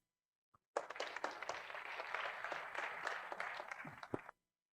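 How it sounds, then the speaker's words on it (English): An audience at a special lecture by a former UN security official at SJA Jeju breaks into a short burst of clapping that starts abruptly, holds steady for a few seconds and stops, fairly soft in the room. "Can you give all a round of applause for Mr. Choi again?"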